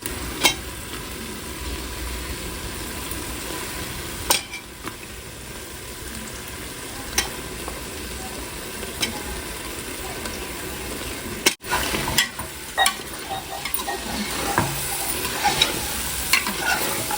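Nalli bones, mutton marrow bones, fry in masala in a pot, giving a steady crackling sizzle with sporadic sharp scrapes and clanks of stirring, louder and busier toward the end.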